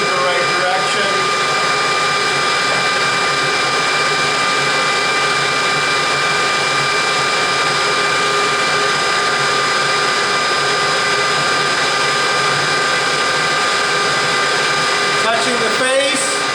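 A metal lathe spindle turns an aluminum workpiece with a steady, continuous mechanical whir and fixed tonal hum that holds level throughout, with a faint scrape near the end.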